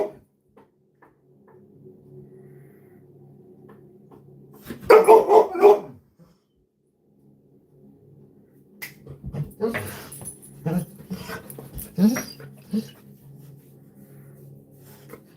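A dog barks and whines indoors in loud bursts, one cluster early and several more later, separated by quiet stretches, with occasional faint human sounds.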